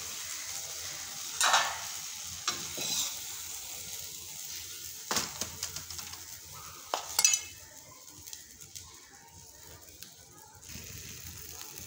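A puran poli cooks in a kadhai with a soft, low sizzle, punctuated by scattered clinks and scrapes of a utensil against the pan, mostly quiet and close.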